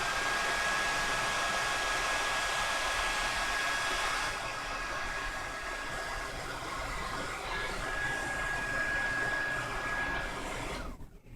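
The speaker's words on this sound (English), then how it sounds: "put the blow dryer on it" Blow dryer blowing on a synthetic or human hair weave, a loud steady whirring roar with a thin whine running continuously for about ten seconds before cutting off abruptly, with no talking.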